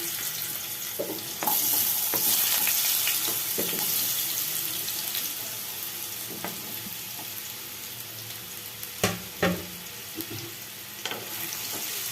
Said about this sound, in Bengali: টুকরো করা ওলগুলোকে আমি এই তেলের মধ্যে দিয়ে দিলাম তেলটা গরম হয়ে গেছে